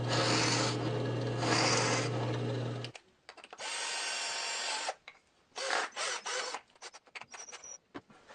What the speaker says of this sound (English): and then I drive them in with the drill.